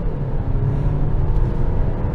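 A 2023 Dodge Hornet accelerates hard in sport mode, its engine a steady close rumble heard from inside the cabin, building without pause and with no talk over it.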